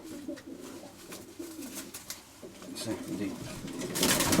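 Pigeons cooing in a loft, a series of low soft coos repeating at close range, with rustling, handling noise and a voice-like murmur around them, growing louder and busier toward the end.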